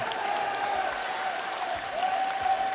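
A crowd applauds steadily and loudly at the Brussels Challenge 2023 major after the Street Fighter 6 grand final win, with a sustained clapping wash and a swell near the end.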